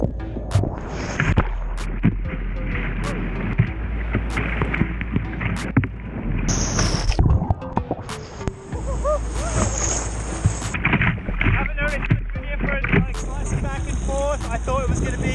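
A Werner Surge Strike paddle drives a kayak through waves, with rhythmic splashing strokes and rushing surf close by, plus occasional knocks and wind over a steady low rumble.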